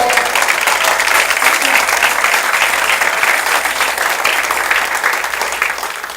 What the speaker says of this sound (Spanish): Le dan un aplauso al Señor.